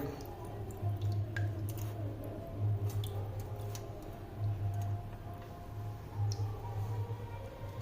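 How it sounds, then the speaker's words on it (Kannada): Water drips steadily from a Shiva lingam onto a Sri Chakra during a Shivaratri puja, a quiet irregular patter of small drops over a low steady hum. "ನೀರು ಬೀಳ್ತಾ ಇದೆ"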